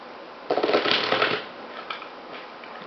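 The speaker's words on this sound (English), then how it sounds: "Let's shuffle this card right now." A deck of playing cards shuffled during a magic show, a close, fairly loud riffle lasting about a second, followed by softer card handling.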